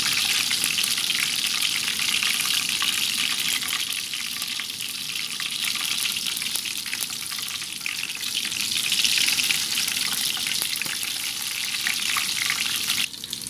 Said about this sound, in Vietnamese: Các bạn chỉ cần chiên cho cái phần tàu hũ kia của mình nó vừa vàng là được rồi ha.